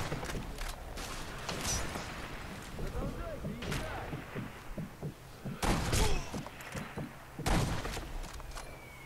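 Rifle shots from the video game Sniper Elite V2 crack out as several sharp, loud reports spread across the stretch, with a player talking quietly between them.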